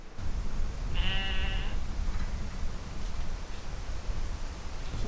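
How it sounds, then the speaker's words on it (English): A loose sheep bleats once, a single clear wavering call near a gate in rural Wales, set against steady outdoor wind rumble. "Sheep on the loose, and we feel responsible."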